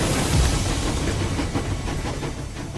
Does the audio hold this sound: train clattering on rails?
yes